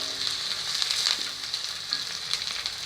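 Curry leaves and fenugreek seeds fry in hot oil for okra curry, giving a close, steady sizzle with small crackles and pops throughout and no voices.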